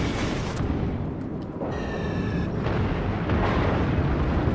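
Torpedo hits explode against a ship in the naval combat game World of Warships, loud rumbling blasts with a deep booming roar that swells and sustains, joined briefly by a faint tonal alarm.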